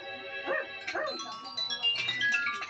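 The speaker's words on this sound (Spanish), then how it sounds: "¿Por qué ladras tanto?" Cartoon dog barking in an animated show, with several sharp, close yips and barks bursting over a busy music bed.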